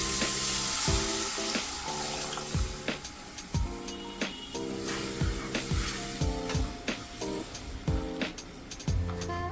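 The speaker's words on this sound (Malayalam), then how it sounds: "ഇനി നമുക്ക് ഇതിനകത്തേക്ക് ആ മിക്സി കഴുകിയ വെള്ളം കൂടെ ഒഴിച്ചു കൊടുക്കാം" Water from rinsing a mixer jar is poured into a pan of simmering Kerala-style roasted-coconut fish curry, giving a near, steady liquid splash and sizzle with repeated clinks of utensils against the pan throughout.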